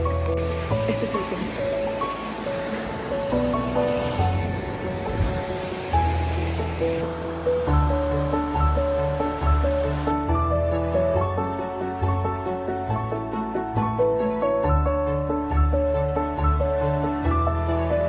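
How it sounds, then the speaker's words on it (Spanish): Sea waves break on a shore in a loud, continuous broad wash that runs the whole time, with music playing alongside. "Y ahora ya nos vamos a meter en el mar."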